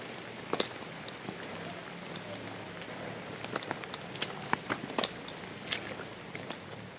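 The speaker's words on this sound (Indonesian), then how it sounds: "langsung diguyur hujan deras banget" Heavy rain falls during a trail trek at Cisadon in Sentul, Bogor, Indonesia, making a steady hiss with scattered sharp drops and crunchy footstep-like ticks close by.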